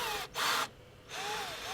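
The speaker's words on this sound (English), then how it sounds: "Start with a smaller drill, and then enlarge the hole." Power drill boring into an aluminium sailboat mast, a steady bright whine broken by two short pauses, close and loud with no talk.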